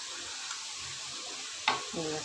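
Fish masala fries in a pan with a steady, quiet sizzle, then a sharp hiss flares up as water is added, settling into bubbling sputter; a voice talks faintly underneath.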